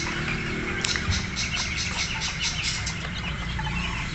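Brahma chickens, including Light, Gold Partridge, Buff and Splash varieties, cluck and call in a steady run of close, loud bursts over a constant background hum, with no one talking.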